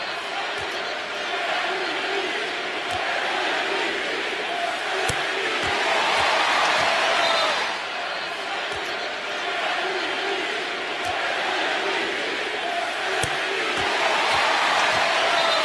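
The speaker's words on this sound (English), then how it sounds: "Take a listen to what the fans are cheering." Basketball fans fill an arena with a dense, steady roar of cheering and chanting during a free throw, a continuous crowd wash with scattered sharp claps and bangs throughout.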